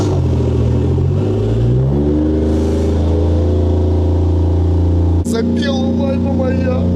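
A Subaru car engine starts and revs inside a train wagon, a loud, close rumble rising in pitch as it is revved, then settling to a steady idle, with a sharp clunk near the end.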